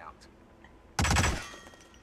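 A single loud, close gunshot in a video game strikes a tree, a sharp burst that decays over half a second amid otherwise quiet background.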